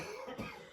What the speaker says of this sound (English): if you can hear him coughing in the background